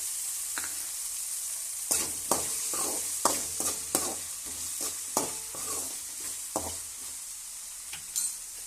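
Thick green chillies sizzle and crackle in a hot pan while a spoon stirs, scraping and knocking the pan in irregular bursts, close by.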